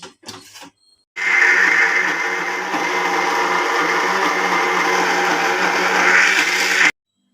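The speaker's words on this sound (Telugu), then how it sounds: "మిక్సీ పట్టించుకోవటానికి ఇందులో అయితే అల్లం అల్లము వెల్లుల్లి జీలకర్ర ధనియాలు అయితే నేనైతే వేసుకుంటున్నాను" A kitchen mixer grinder whirs loud and close as it grinds ginger, garlic, cumin and coriander into a paste. A few brief knocks come first, then the motor runs for about six seconds and stops abruptly.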